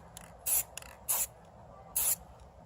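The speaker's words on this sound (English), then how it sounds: "I'm going to take my straight edge and hold it just above the paper and spray up here" A spray paint can hisses in three short bursts across a straight edge held just above paper, each sharp and close, separated by brief quiet pauses.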